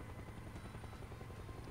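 ADAC rescue helicopter in Farming Simulator 19, its rotor a continuous low, rapid chopping thud with steady turbine hiss, heard alone at an even level.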